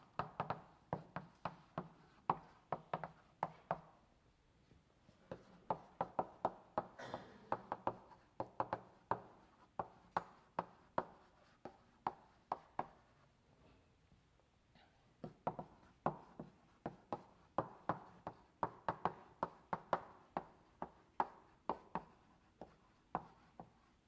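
Chalk tapping and scraping on a blackboard during an MIT lecture as a linked list is drawn, a long run of sharp, irregular knocks and short strokes, close and fairly clear with little talk.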